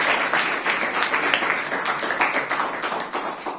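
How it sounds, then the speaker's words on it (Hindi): A crowd at a National Youth Day celebration claps steadily to welcome a guest, a dense, continuous patter of many hands filling the room at a constant loudness throughout. "जोरदार क्लैपिंग करें, यूथ वाली क्लैपिंग।"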